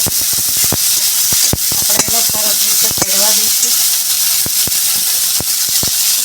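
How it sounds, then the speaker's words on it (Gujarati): Loud, steady sizzling of mustard seeds and asafoetida spluttering in hot oil for tempering, with sharp pops and crackles scattered throughout. "રાઈ નાખીશું હિંગ નાખીશું વઘારાઈ ગયો"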